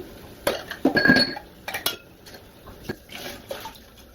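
Glass canning jars washed in a kitchen sink under running water, with clear clinks and knocks of glass against glass and hard surfaces, irregular and close over a soft hiss of water.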